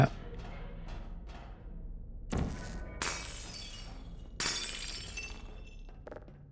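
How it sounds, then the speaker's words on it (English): Glass tubes shattering in the video game Portal 2, sharp bright crashes arriving in three separate bursts amid quiet background sounds, with no speech over them. "Breaking this tube gives players a chance to test out their newly trained rocket redirecting and glass breaking skills"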